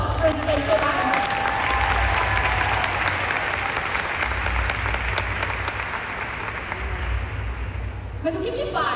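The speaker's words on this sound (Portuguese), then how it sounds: "Uma salva de palmas para os nossos Presidential Diamonds." A seated audience at a dōTERRA event gives sustained applause for the Presidential Diamonds, dense steady clapping filling the room for several seconds before it begins to thin out at the end.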